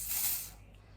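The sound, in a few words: hair holding spray sprayed on wig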